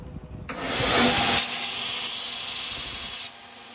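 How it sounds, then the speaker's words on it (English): A belt grinder dresses the steel face of a blacksmith's hammer, producing a loud, steady abrasive rasping that swells in, holds for about three seconds, then drops away. "if you have a belt grinder, use a belt grinder"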